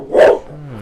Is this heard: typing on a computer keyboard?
no